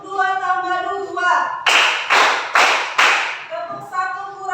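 Children in a classroom counting game clap four times in an even rhythm, crisp and close, framed by chanting voices before and after.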